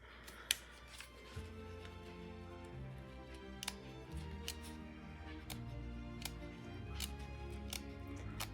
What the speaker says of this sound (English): Let's see if I can even get these scissors in there.